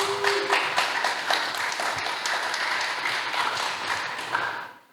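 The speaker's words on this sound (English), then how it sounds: "Give him a round of applause for me," An audience gives steady, fairly close applause welcoming company founder Roman Nevo, holding level before tapering off at the end.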